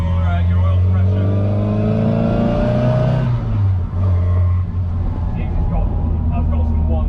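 A classic Mini Cooper S MK1 engine runs loud and close, revving up with a rising pitch before dropping back to a rough, steady idle that carries on to the end.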